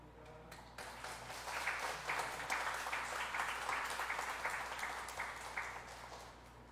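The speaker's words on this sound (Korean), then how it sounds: "제가 책 선물 드릴 때 박수로 축하해 주시기 바랍니다." Church congregation clapping during a Sunday morning worship service as books are handed out as gifts, a soft, steady spatter of many hands heard from a distance with a low background hum.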